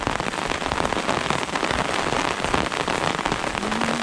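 Rain falls outdoors at a fishing-trap spot, a close, steady crackling patter of drops on surfaces that holds an even loudness throughout, with no talking.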